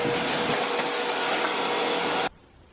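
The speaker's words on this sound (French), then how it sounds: "Alex passe l'aspirateur dans notre autre chambre où on va dormir à partir de ce soir" A vacuum cleaner runs in an empty bedroom with a steady, loud, broadband roar that holds for about two seconds, then cuts off abruptly, leaving a faint room hum.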